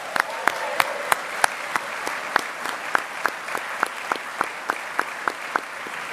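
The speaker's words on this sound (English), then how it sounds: "Let's give them a big round of applause, please." An audience at a defense employer support award ceremony claps steadily, and the sharp individual hand claps stand out clearly in an even rhythm over the softer, fainter applause of the crowd.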